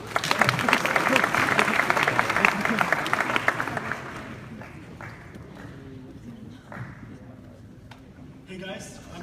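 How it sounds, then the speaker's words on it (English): Audience applause at the Boilermake 2017 hackathon opening, loud dense clapping for about four seconds that fades out, followed by quieter room noise and a few scattered claps. "Round of applause."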